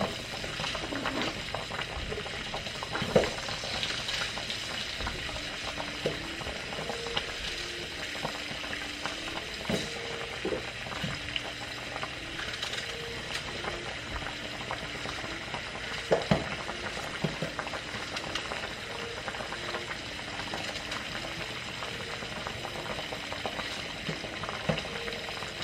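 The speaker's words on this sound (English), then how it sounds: "Just kind of stirring it in the butter." Sliced apples cook in melted butter in a pan, giving a steady low bubbling sizzle with occasional clicks and scrapes of stirring, mostly quiet and with no talk.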